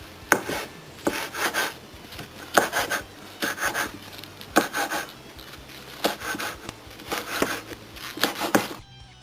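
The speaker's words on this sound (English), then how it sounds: "you want to chop it thinly so it can fit into the mixing bowl" A knife taps and slices green onions on a cutting board in quick bursts of thin chopping strokes, close and fairly quiet, with brief pauses between runs.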